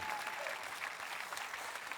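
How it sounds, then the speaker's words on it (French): Church audience applauding during a sermon, a dense, steady wash of many hands clapping close and fairly loud throughout. "Applaudissez les cadeaux de Dieu."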